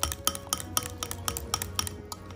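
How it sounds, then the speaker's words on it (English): A utensil stirs thick pot roast gravy in an Instant Pot, giving quick, regular clinks and scrapes against the metal insert, close and fairly quiet, with no voices. "And we're gonna just give this a stir."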